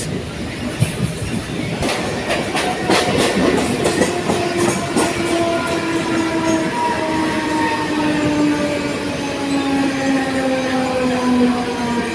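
A suburban train pulls into Belapur station: a continuous rumble and clatter of carriages from inside, with a whining tone that slowly falls as the train slows, and faint background voices.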